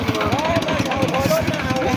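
A continuous chugging tractor engine rumble runs steadily underneath, with a person talking over it.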